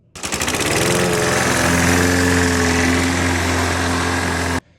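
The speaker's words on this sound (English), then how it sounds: "Lawnmower sounds, lawnmower sounds." A Baja DB30 224cc four-stroke minibike engine starts abruptly and runs loud and close at a steady, lawnmower-like chug, then cuts off just as suddenly, with no talking.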